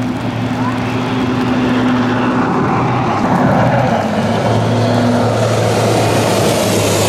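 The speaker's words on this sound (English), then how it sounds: "watch the jet boats compete for the best times" Racing jet boats in a marathon on the Wapiti River near Grande Prairie, Alberta, on a rainy morning: a loud, continuous engine roar with steady droning tones that swell as a boat passes close by.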